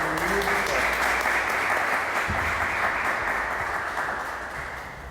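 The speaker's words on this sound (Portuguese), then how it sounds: "Receba ele de aplauso" An audience greets a guest speaker with loud, sustained applause that slowly fades toward the end, with a voice briefly heard underneath.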